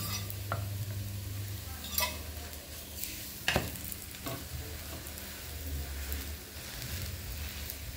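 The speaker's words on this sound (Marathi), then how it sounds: "हे आता तेल टाकून आपण भाजून घ्यायचं आहे" Flatbread of mixed flour with mint roasting in oil in a pan, a steady close sizzle with light scraping and stirring noises and a few sharp clinks of utensil against the pan.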